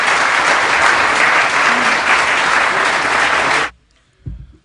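An audience at a public-private partnership panel during the Denver Union Station grand opening claps loudly and densely for the panelists, then the applause cuts off abruptly and a brief low thump follows.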